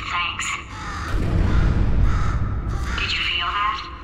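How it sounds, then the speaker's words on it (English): A crow caws in the Portal 2 video game, with several harsh calls at the start and again near the end over a low rumbling background, while a voice talks in between. "Could you, murder this bird for me?"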